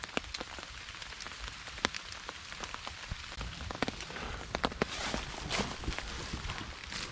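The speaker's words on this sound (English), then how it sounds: "so it's still raining" Heavy rain falling on a camping setup, a dense steady patter with sharp individual drops tapping close by, continuous throughout with no voices.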